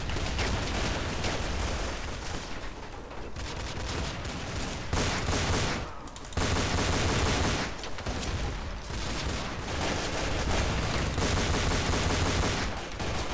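Rapid gunfire from Counter-Strike: Source in a gun game match, dense bursts of shots running almost continuously at steady loudness with a few brief gaps, no talk.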